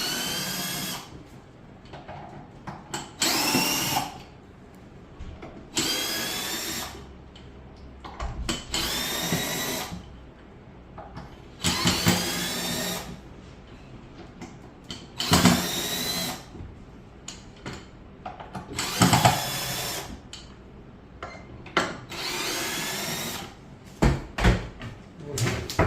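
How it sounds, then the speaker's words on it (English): A handheld power tool backs out screws during a Mutech microlaser installation, repeated whirring bursts of a few seconds each separated by quieter gaps, close and fairly loud. "Then we have to remove the screws."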